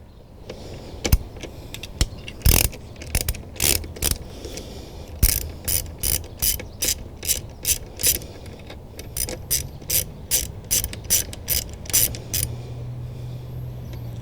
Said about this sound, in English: So I'm going to take those T30s out now.